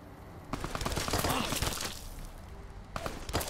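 Rapid bursts of gunfire in the video game Fallout: Tale of Two Wastelands, dense overlapping shots in a continuous volley, loud and close, with a short lull before more shots near the end.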